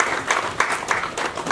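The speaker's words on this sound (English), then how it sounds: "please another round of applause for him" Audience applause at a maritime industry stakeholder event, a continuous dense clapping from a crowd, fairly close and steady for the whole short stretch.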